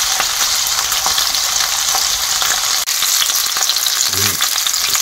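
Pieces of US tomahawk steak sear in a pan with a loud, steady, close crackling sizzle, one brief dropout midway, and a faint low knock near the end.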